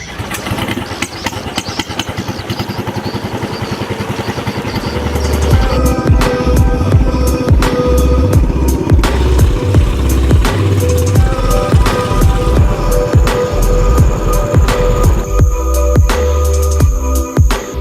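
A small boat engine drones steadily and loudly without a break while crossing a lake in Borneo, its low rumble growing heavier partway through.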